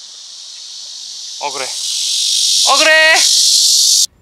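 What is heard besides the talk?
cicada (Platypleura kaempferi) singing high-pitched in distance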